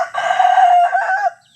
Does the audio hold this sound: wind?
no